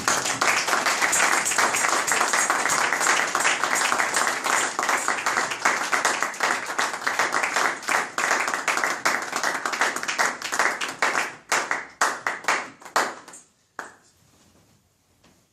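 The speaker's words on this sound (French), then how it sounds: "Acclamons pour le Seigneur" A church congregation clapping during a sermon on forgiveness, loud rhythmic hand claps in a steady sustained burst that grows scattered and sparse before stopping abruptly.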